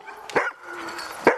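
A seven-year-old Alaskan husky sled dog barks twice, close and loud, over a busy outdoor background of other dogs at a training kennel.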